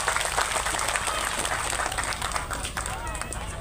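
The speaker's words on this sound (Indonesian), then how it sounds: "Tepuk tangan dulu buat polisi dan tentara." Crowd applause for police and soldiers at a religious gathering in Binong, Subang, a sustained wash of many hands clapping with voices and cheering mixed in.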